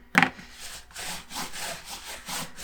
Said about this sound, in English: Give everything one more good burnish.